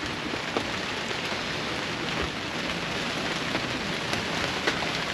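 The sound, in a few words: rain during a tropical storm or hurricane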